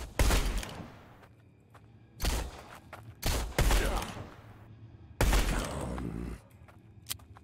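Gunfire in the video game Blood West: several loud bursts of shots in quick succession with short gaps between them, each trailing off, punctuated by brief thuds.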